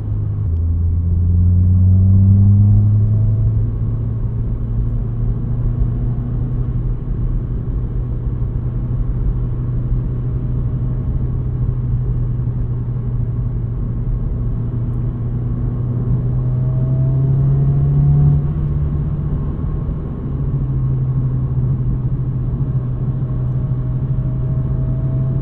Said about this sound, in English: Get some nice pops too from the exhaust.